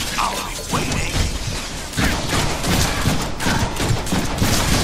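Gunfire from the Deadpool video game, dense rapid bursts of shots and clattering impacts running continuously and loudly throughout with no pauses.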